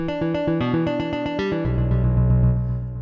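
A synth piano patch played through Logic's built-in arpeggiator plays fast notes stepping up and down, then settles into a sustained low chord that slowly fades.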